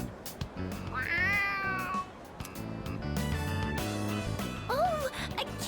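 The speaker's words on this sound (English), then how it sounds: "Oh, a kitty cat!" Stray cat meowing in the Persona 3 Reload video game, a few rising and falling meows over game music, with a short pause between them.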